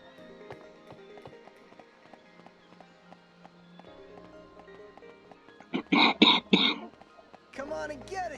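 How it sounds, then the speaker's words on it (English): A harsh, raspy burst of coughing, like a smoker's cough, breaks out near the end over quiet tapping and footsteps from a Final Fantasy XIII-2 playthrough, followed by a short throat-clearing rasp. "Smoker's cough."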